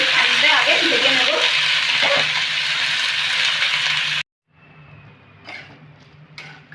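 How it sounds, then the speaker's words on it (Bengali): Ivy gourd (kundru) sizzles loudly in hot oil with salt and turmeric, a dense frying crackle for about four seconds before cutting off abruptly to quieter scattered stirring sounds. "নুন আর হলুদ দিয়ে কুঁদরিগুলোকে বেশ খানিকটা আগে ভেজে নেব।"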